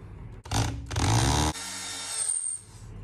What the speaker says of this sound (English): Now we'll drill this.